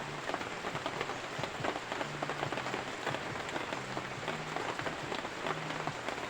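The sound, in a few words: rain falling on the farm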